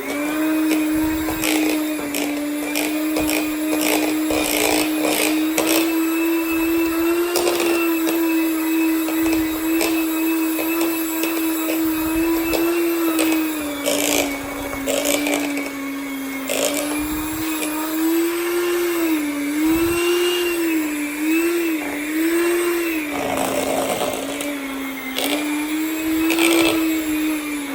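An electric mixer whirs steadily, loud and close, for the whole stretch as it beats chocolate chip cookie dough, its motor pitch wavering slightly as the load shifts.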